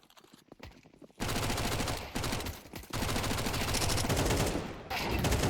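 MAC-10 submachine gun fire in a Counter-Strike 2 match on the map Ancient, with rapid dense bursts that start after a quieter opening and continue with brief gaps, loud and close.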